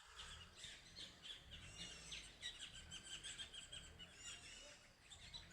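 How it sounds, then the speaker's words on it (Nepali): Many birds chirp and call together from a tree in the morning, a dense, continuous twittering chorus at moderate distance with no voices. "माथि यो प्लान्टमा चाहिँ यो ट्रीमा चाहिँ पुरा चरा आइरहेको छ अनगन्ती।"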